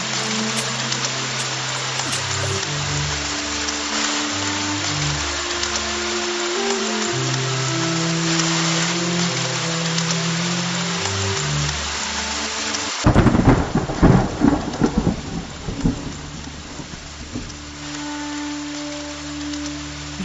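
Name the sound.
thunderstorm with heavy rain and thunder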